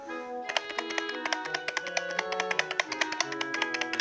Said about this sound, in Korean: 이런 기계식 키보드 같은 계산기를 구매를 했어요. 이 계산기는 소리가 굉장히 좀 시끄럽습니다